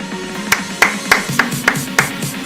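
Hand clapping: six sharp, evenly spaced claps close to the listener over about two seconds, with a low hum running underneath.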